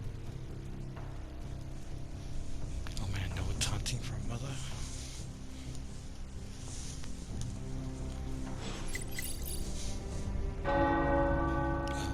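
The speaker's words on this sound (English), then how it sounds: "The tower bells are ringing." Church tower bells ring repeatedly in the video game Midnight Suns, in a layered, resonant pattern, with a low rumble underneath and a brighter burst of chiming toward the end.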